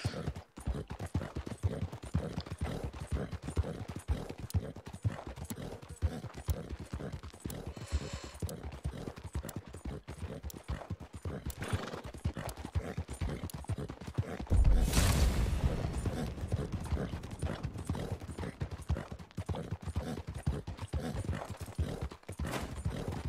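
Horse hooves clip-clop steadily through Red Dead Online, a continuous rhythmic trot of moderate loudness with faint creaks and mechanical noise layered beneath, and a brief louder burst midway.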